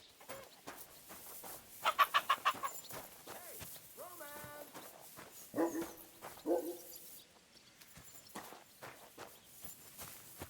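A dog barks in the medieval video game Kingdom Come: Deliverance, a short burst of several quick barks followed by a couple more later, heard among footsteps and other village sounds at moderate loudness.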